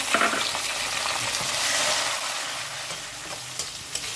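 Chopped tomatoes dropped onto lightly browned onions in a pan for karela chicken, a loud steady sizzle that swells as they hit the oil, with a few stirring scrapes.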